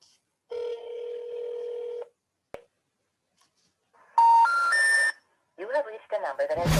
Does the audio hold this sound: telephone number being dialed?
yes